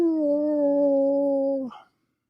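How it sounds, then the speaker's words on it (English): A beagle lets out one long, steady, tonal howl at close range, held for over a second before breaking off abruptly at the end. "You got your beagle howling with that buzzer."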